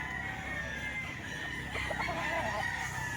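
Stag roosters crow faintly at a market, a few distant calls rising over a low background of clucking and crowd noise.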